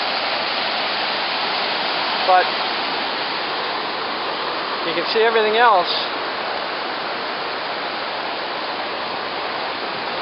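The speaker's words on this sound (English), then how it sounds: "Enjoy the sound of the water." The roar of Niagara Falls pours as a steady, dense rush of water throughout, with a person speaking briefly over it in the middle.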